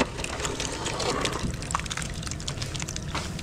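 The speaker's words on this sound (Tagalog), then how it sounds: "Buhos na po." Liquid pours steadily with a wet, gushing splash that continues for a few seconds, with faint clatter in the background.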